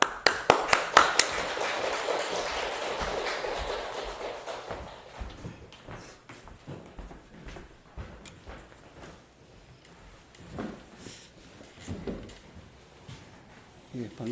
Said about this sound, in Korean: 우리 나오실 때 환영의 박수하도록 하겠습니다